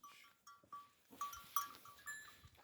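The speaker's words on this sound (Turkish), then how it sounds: "Keçiler üstüme tırmanıyor." Goats on a rural farm bleat in several short, separate calls, some near and some farther off, against a quiet background.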